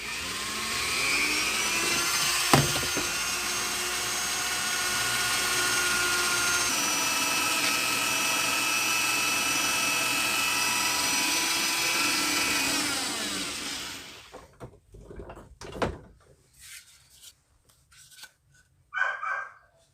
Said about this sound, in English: So I got my Dremel. This is a felt wheel,